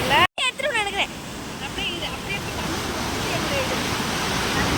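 Loud waterfall roaring steadily up close, a continuous broad rush of falling water that fills the whole clip, with a brief human voice near the start.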